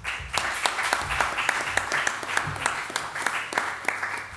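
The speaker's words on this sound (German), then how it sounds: "Applaus" An audience at a political talk breaks into sustained applause, dense clapping with sharp individual claps standing out, close and continuous throughout.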